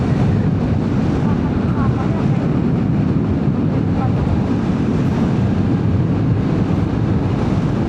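Strong wind roars and buffets steadily throughout while motorcycle riding, a loud continuous rumble with gusty texture battering close at hand.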